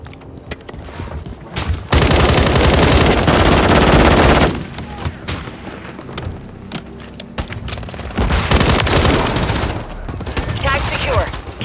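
Loud automatic gunfire in the video game Call of Duty: heavy sustained bursts, with a particularly intense stretch early on and another later, mixed with game voices.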